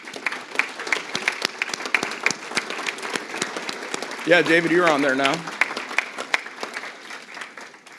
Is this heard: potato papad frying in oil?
no